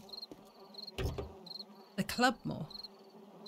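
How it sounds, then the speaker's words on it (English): Crickets chirp steadily with flies buzzing in the 7 Days to Die game world, a continuous insect backdrop under a man's brief speech and a few louder clunks. "the crickets are making their noises. Man. So are the flies."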